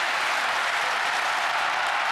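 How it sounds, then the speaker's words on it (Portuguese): A stadium crowd at a 2010 athletics World Cup claps along for a high jumper's attempt, a dense, steady wall of applause filling the arena throughout. "E o público marca direitinho o tempo das palmas dela"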